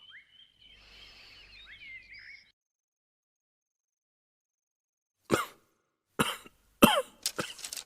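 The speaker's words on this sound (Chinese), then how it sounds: "怎么突然咳嗽起来了？" A king coughs indoors, several separate harsh coughs close by in quick succession, following soft bird chirps and a brief silence.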